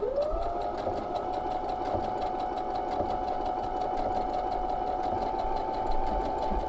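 Sewing machine running a blind hem stitch on pressed fabric, a steady close, loud mechanical whir with a rhythmic needle patter that continues unbroken throughout, no voices.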